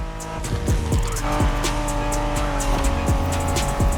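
A Honda NSX engine in The Crew Motorfest video game revs hard through rising and falling gears with tire squeals, fast and loud.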